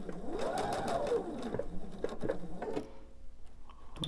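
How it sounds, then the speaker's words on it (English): A sewing machine back stitching the corner of a pillow. A fast, close mechanical patter runs steadily, then stops near the end, leaving a quiet hum and a final click. No one speaks. "I'm going to do a little bit of a back stitch just to make sure it's extra secure"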